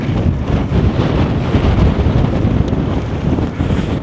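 Strong blizzard wind roars steadily across an old train station, buffeting the microphone with loud, continuous low rumbling gusts throughout, with no talking.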